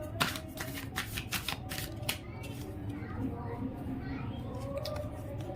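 A deck of tarot cards is shuffled close up, with a quick run of crisp riffling flicks followed by softer sliding and rustling, and a voice faint underneath.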